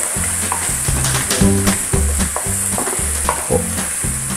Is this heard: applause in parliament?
no